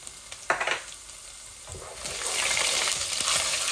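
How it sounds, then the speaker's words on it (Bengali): Spices sizzle in a pan with a bright, hissing crackle that builds, and a few clinks and scrapes come from stirring. "আমার শুকনা উপকরণ গুলা ভাজা হয়ে গেছে"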